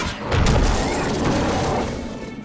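A cartoon battle attack, the creature Driftblade's burst barrage, lands as a loud rumbling boom that swells early and rolls on for about two seconds with a dense crash-like wash before fading.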